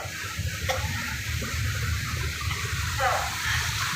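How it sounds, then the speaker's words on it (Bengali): A four-storey river launch in Barishal runs its engine as the propeller churns the water: a steady, loud low rumble with a continuous wash of water noise throughout. "ইঞ্জিন এবং ঢেউ"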